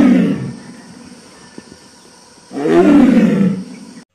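A toy tiger plays two loud recorded roars, one at the start and a longer one after a short quiet gap. No one speaks over them.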